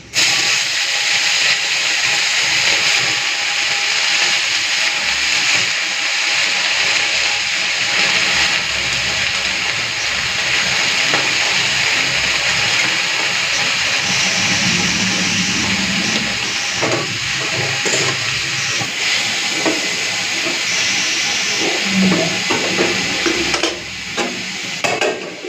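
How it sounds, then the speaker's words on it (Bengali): Red amaranth leaves fry in a pan with dried chilli and garlic, giving a loud, steady hiss that runs without a break, with occasional stirring scrapes and no talking. "তো শুকনো লঙ্কা রসুনটা ভালো করে ভেজে নিয়েছি, এরপর শাকটা দিয়ে দিচ্ছি"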